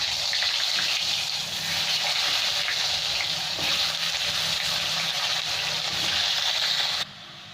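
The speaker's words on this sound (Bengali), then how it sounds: "এবার এই মাছ ভাজার তেলে আমি আলুগুলো ভেজে নেব।" Potato pieces frying in oil left over from frying rui fish, seasoned with salt and turmeric, give a steady, loud broadband sizzle that continues unbroken before dropping off sharply near the end.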